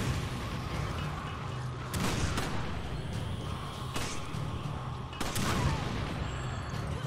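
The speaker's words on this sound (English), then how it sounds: "Who's throwing those grenades?" Grenade explosions and gunfire in Resident Evil 5, several loud booming blasts spaced a second or two apart over a continuous rumble of shooting, fairly close and heavy.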